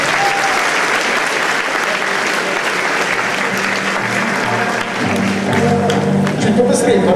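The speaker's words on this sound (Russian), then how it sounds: "Аплодисменты." Loud, sustained applause from a large crowd at a graduation diploma ceremony fills the room, steady and dense throughout, with a few voices rising near the end.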